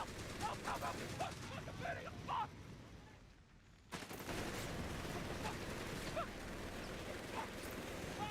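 Sustained MG42 machine gun bursts in Company of Heroes 3, dense rattling fire over a busy battlefield, with a brief lull before the firing resumes at full intensity.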